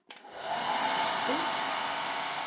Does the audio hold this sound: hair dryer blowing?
yes